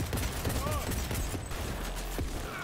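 Gunfire in the Cyberpunk 2077 game: a dense, continuous fusillade of rapid shots and impacts over a loud combat soundscape, mixed with a voice talking.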